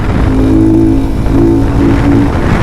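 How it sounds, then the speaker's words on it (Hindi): A KPR 200 motorcycle engine rumbles steadily with a low exhaust drone, rising briefly in pitch twice as it is revved. "This exhaust is very decent"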